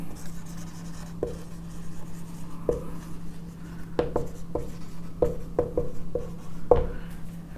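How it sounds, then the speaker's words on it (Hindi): Chalk or marker writing on a board during a biology classroom lesson, a soft rubbing scratch broken by several brief taps and strokes over a low steady hum, with no talking. "मैं इधर अलग से लिख रहा हूं"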